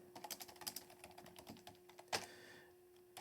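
Rapid typing on a worn computer keyboard in a quiet room: a fast, uneven run of light plastic key clicks with one louder heavier strike near the end, close and alone.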